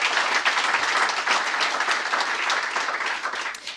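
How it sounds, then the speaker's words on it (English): An innovation forum audience breaks into a lively round of applause, many hands clapping close and fairly loud, swelling early and then gradually thinning toward the end. "Can we give them a round of applause,"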